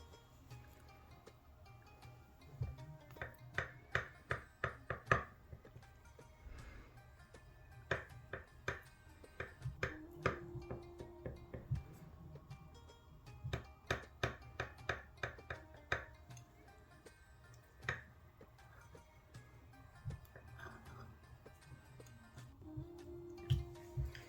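A knife cutting through a chilled rasmalai cake garnished with pistachio and almond gives soft, irregular taps and clicks of the blade reaching the plate, faint and close, with brief quiet gaps in between.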